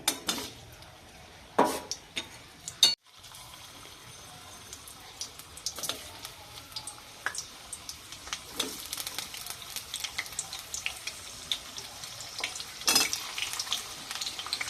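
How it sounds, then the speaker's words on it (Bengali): Boiled potatoes go into hot oil, giving a soft continuous sizzle with occasional clinks and scrapes of utensils against the pan. "সেই আলুগুলোই দিয়ে দিচ্ছি ওগুলো ভাজার জন্য"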